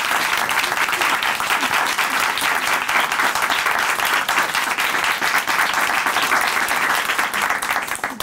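Audience applause in a studio for a guest on a Christian broadcast program, sustained, even clapping from a sizeable crowd that carries on for several seconds without pause.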